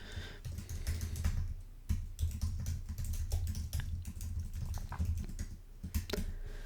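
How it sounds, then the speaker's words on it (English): Typing on a computer keyboard, a steady run of close, rapid key clacks with brief pauses and a few heavier strokes. "I'm just going to type in a message."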